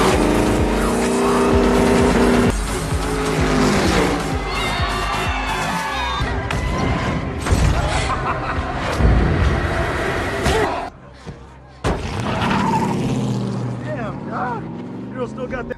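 Street race cars with roaring engines and screeching tires, loud and dense, with revving surges and brief impact-like bursts, then a short drop before the engine noise returns.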